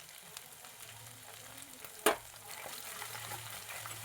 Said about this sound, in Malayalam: അതിലേക്ക് 2 ടേബിൾ സ്പൂൺ ഇഞ്ചി വെളുത്തുള്ളി ചതച്ചത് ഇട്ട് കൊടുക്കുക.